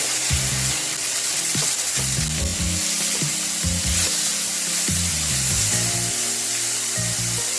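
Chopped garlic frying in a pan gives a steady, close, crackling sizzle that runs throughout, with a low intermittent droning tone underneath.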